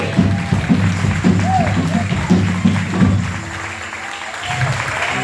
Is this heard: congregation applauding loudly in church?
yes